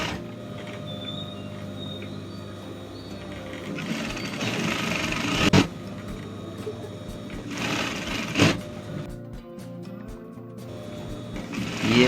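Sewing machine stitching along the folded waistband edge of a lehenga, a rapid mechanical whirring run in bursts, pausing and restarting with clicks between passes.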